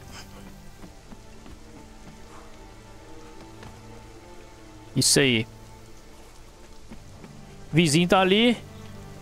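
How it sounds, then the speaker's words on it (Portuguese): Steady rain falling in the Conan Exiles game world, a continuous soft patter throughout, with someone speaking briefly and two loud tonal in-game sound effects bursting in over it. "Cara, agora só chuva aqui, ó."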